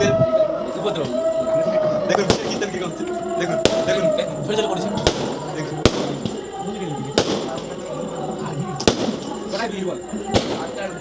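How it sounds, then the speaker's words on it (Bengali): Fireworks bang sharply outside during Kali Puja in Rajnagar, heard from a room, at irregular intervals, a dozen or so loud cracks over a murmuring background with voices talking. "আর বাইরে আতশবাজি হচ্ছে"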